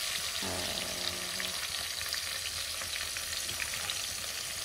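Chopped onions and tomatoes fry in oil, a steady loud sizzle that fills the whole stretch, with a brief stir or clatter near the start and no talking.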